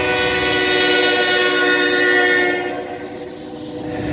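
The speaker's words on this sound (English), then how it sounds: "train just coming" A train passing near a Mississippi River dam at night, a loud sustained horn blast over rolling wheel rumble that drops off after a couple of seconds, leaving the clatter of cars continuing close by.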